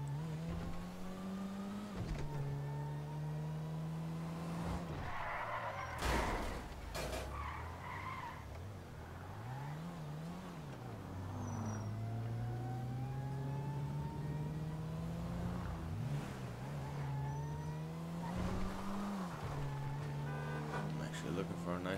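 A car in GTA 5 Online drives with a sustained engine whine that rises and drops through gear changes, with bursts of tire skidding and squeal, while someone talks over it.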